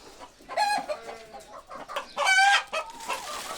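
Domestic free-range hens in a farm coop cluck and squawk in repeated loud bursts, close by, with no talk.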